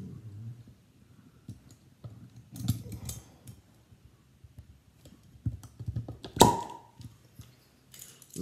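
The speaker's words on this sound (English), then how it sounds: "So a neat little corkscrew. Not very often have to use this on a beer" A small corkscrew works a cork out of a crown-topped Lindemans beer bottle, with scattered twisting clicks and creaks close by, then one sharp pop as the cork comes free.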